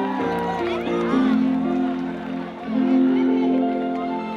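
A crowd at a youth event in Firgas shouts and cheers for all the women of the world, a loud, sustained swell of voices with a brief dip partway through before rising again.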